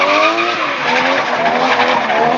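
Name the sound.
1JZ Toyota Soarer drifting, tires skidding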